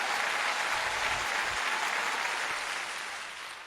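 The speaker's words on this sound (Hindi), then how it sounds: "जो सुनना चाहते हैं एक बार जोरदार ताली बजाकर मुझे बताएं" Loud, sustained audience applause at a Hindi poetry recital (kavi sammelan), a dense wash of clapping that holds steady and tapers slightly toward the end.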